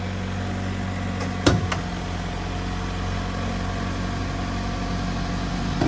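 A Mazda CX-3's 2.0 Skyactiv engine idles at a steady, low hum, with a brief clunk near the start and no voices.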